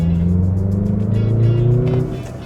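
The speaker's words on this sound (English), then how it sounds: "the engine note of the CX-50 is really nice" A Mazda CX-50 SUV engine hums steadily while driving, a low continuous drone that swells slightly near the middle and eases off at the end, with no voices over it.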